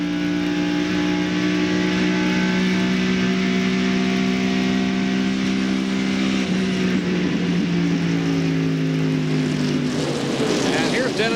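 A Ford race car engine drones loud and steady from onboard during a 1996 NASCAR Busch Grand National race at Darlington Raceway, its pitch dipping and then rising again near the end.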